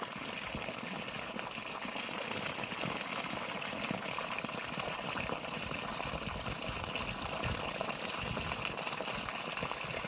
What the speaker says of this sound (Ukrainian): Прокачуємо ржаву воду.